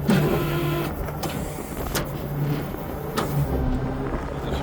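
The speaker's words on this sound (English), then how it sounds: "We're going to slide the axles forward on the trailer." Talbert trailer axles sliding forward on a Peterbilt 389 rig, a steady mechanical motor whir with low hum and a few sharp clicks or clunks, continuous and fairly close, no talk.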